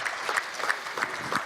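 Audience at an insurance-finance panel in French applauding a speaker, a soft even clapping wash with a few louder claps standing out, brief and fairly distant.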